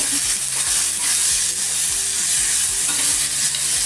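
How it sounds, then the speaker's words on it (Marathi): Green peas roasting in a pan for matar kachori are stirred briskly, producing fast repeated scraping strokes against the pan over a dense, steady sizzle, close and loud throughout. "मध्ये मध्ये मला हलवत जायचं म्हणजे खाली चिकटणार नाही."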